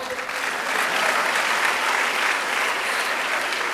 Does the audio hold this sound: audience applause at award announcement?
yes